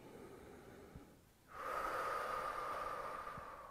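Forceful breathing during a workout exercise: a short nasal sniff, a brief pause, then one long, loud, steady exhale lasting a couple of seconds, close to the microphone with no talk.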